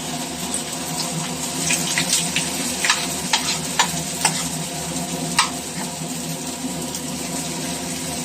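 Vada sizzles and crackles in hot oil in a home kitchen, a steady frying hiss broken by sharp pops and a few scraping stirs, heard close with no talking.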